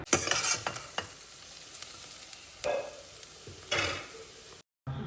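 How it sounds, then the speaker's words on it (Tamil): Onion, garlic and curry leaves sautéing in oil in a pan for a kovakkai gravy, a soft steady sizzle broken by a few spatula scrapes, cut off by a short silent gap near the end. "வானலில் வந்து வெங்காயம், அதுக்கப்புறம் பூண்டு, கருவேப்பிலை, இது 3யுமே போட்டு நல்லா வதக்கிக்கணுங்க."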